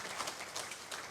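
Applause at the valedictory session of a jurists' conference, thanking the kitchen and service department staff: a quiet, steady patter of many hands from a distant audience, with no voices over it.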